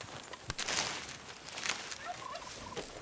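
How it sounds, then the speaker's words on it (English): Wild turkeys gobble in Red Dead Redemption 2, several bursts of gobbling calls at moderate distance over quiet outdoor ambience, with faint footsteps-like rustle. "I'm talking to the turkeys."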